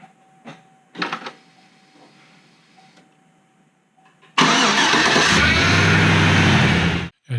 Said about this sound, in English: the first few seconds there was a little bit of whine, which I expected since the high pressure hose hadn't been fully filled with fluid